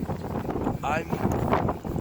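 Steady wind rumble buffets the microphone outdoors, broadband and continuous throughout.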